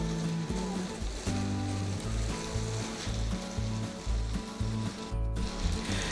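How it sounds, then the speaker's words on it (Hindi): Beef liver frying in ghee on a tawa, with a steady, close, loud sizzle and bubbling that holds for the whole stretch with no talking. "जी ये देखें घी के बबल्स बनना शुरू हो गए"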